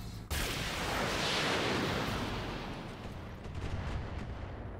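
Artillery firing in a combat video game: one sudden heavy boom followed by a long rumbling roar that slowly fades, loud and alone.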